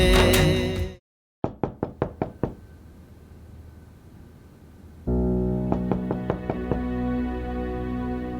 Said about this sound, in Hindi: कोई दरवाजा नॉक कर रहा है